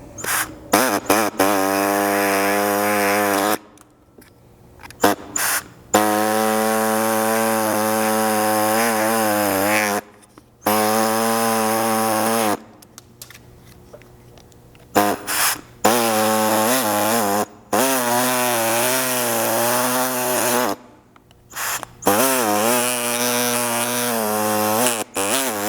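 A pneumatic air saw buzzes through plastic tabs on a Bronco roof during a roof rack install, loud reciprocating bursts of several seconds each, its pitch wavering, separated by short pauses.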